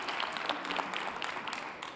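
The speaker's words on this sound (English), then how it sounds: "Yes, that deserves an applause." A panel audience gives brief, fairly faint applause, a soft scattered patter of clapping lasting only a moment.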